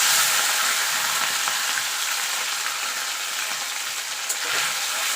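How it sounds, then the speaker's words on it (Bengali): Small mola carplet fish frying in hot oil in a wok, a steady, dense sizzle and crackle that holds loud and even throughout, with no talking. "এবার আমি মাছগুলো ভেজে নেব।"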